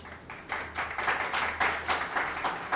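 An audience at a Jain religious discourse by Somya Sagar Ji Maharaj claps in a steady, even rhythm, the dense claps fairly soft and heard without talk.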